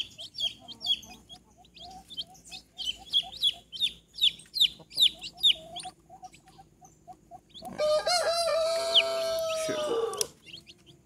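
Chicks peep at a feeder of cracked corn and feed in rapid, evenly spaced high chirps for several seconds, then a loud, drawn-out rooster crow rises over them before fading out.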